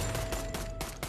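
Rapid cartoon gunfire in Family Guy, four or five quick sharp bursts in a fast even rhythm, close and fairly quiet, with no talking.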